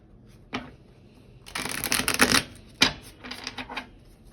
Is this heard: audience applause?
no